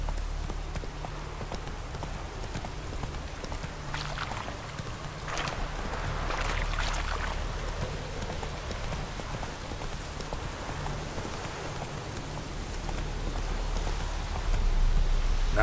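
Hooves of Roach, the horse in The Witcher 3, clip-clop steadily at a gallop over a constant bed of rain and ambient noise, moderately loud and continuous throughout.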